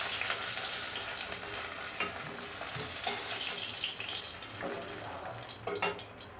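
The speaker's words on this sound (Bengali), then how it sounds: "আমার মাছের মাথা ভাজা হয়েছে" Hilsa fish head frying in hot oil in a home kitchen, a continuous bright sizzle with bursts of crackling and a few stirring scrapes near the end, fairly quiet and close.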